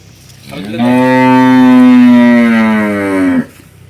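A cow lets out one long, loud, deep moo at close range on a farm where cattle are kept for sale, the call swelling and holding for nearly three seconds before stopping abruptly, with no talk.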